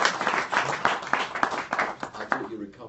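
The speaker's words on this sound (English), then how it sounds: "Big round of applause." Audience applause for a guest at a HealthChat talk event, a short burst of dense clapping from a moderate room crowd that thins out toward the end.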